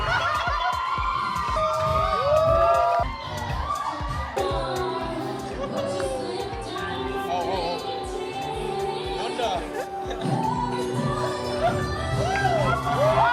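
Lively crowd at a drag brunch in California, voices cheering, shouting and laughing in a dense, energetic hubbub with bursts of whoops and chatter rising and falling throughout.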